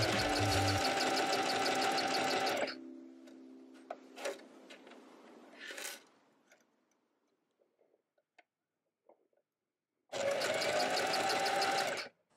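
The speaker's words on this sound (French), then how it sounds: "on va venir coudre avec un point zigzag" A sewing machine stitches a zigzag seam on a two-piece swimsuit in a loud, rapid mechanical whir. It stops for a stretch of quiet handling clicks and rustles, then runs again near the end.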